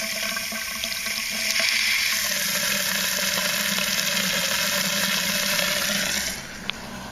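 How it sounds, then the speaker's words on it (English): Water pours steadily from a hose or tap into a wicking container filled with soil. The rushing, splashing stream runs continuously for several seconds, then eases off near the end. "we'll fill it up with some water and see if it comes out the drain"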